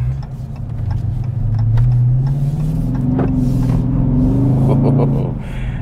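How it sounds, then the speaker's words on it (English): A 2021 Dodge Charger Scat Pack exhaust rumbles loud and close, a deep throaty drone that swells and holds steady for several seconds, with faint clicks on top. "That exhaust is pretty crazy."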